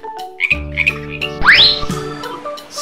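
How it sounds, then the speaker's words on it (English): A frog croaks in a short, loud call with a strong low throaty pulse and a rising squeaky tone, set against a chiming jingle in a kids' animal learning sequence. "Frog."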